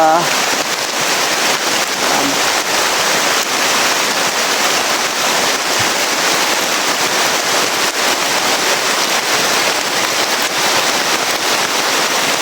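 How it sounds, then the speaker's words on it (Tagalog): Heavy rain pours down outdoors in a dense, loud, unbroken hiss lasting the whole stretch, with faint voices underneath. "sobrang lakas ng ulan tol"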